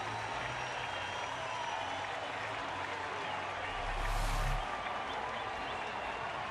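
Baseball stadium crowd roaring after a home run, a steady far-off wash of cheering and applause that swells briefly near the end.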